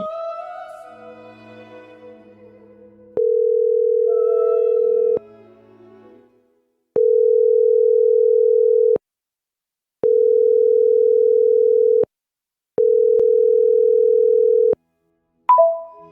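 A phone line emits long, steady electronic ringback tones with regular pauses, preceded by faint background voices and followed by a brief click as the call is answered, during a church stage drama.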